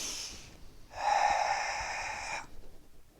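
One forceful breath pushed out through the nose and mouth during the Tensho karate kata, a close hissing exhale lasting over a second after a softer preceding breath, with no speech.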